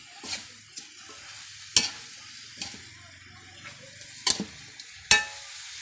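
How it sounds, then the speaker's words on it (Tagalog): Beef tongue and offal paksiw with vinegar is stirred in a pot over a low sizzle, with a few sharp spoon scrapes and knocks spaced irregularly, fairly quiet and close, with no one speaking. "tapos haluin lang natin yan"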